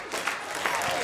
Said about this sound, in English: big round of applause for Adam Richmond